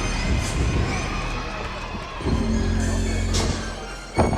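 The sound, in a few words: crowd cheering at Alabama gymnastics floor routine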